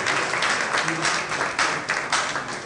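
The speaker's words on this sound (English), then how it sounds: "Oh, keep clapping, please. Let's keep clapping." An audience of faculty members claps at a university masterclass, with uneven, moderately dense applause swelling and dipping in bursts across the whole short stretch.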